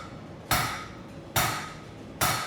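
A blacksmith's hammer strikes hot steel on an anvil three times at a steady, slow rhythm, each blow a sharp, bright metallic clang that rings briefly before the next.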